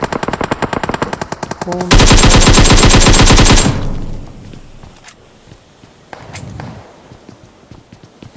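PUBG Mobile gameplay erupts in automatic gunfire: rapid bursts of shots, then a loud sustained volley, followed by scattered fainter shots and quieter steps.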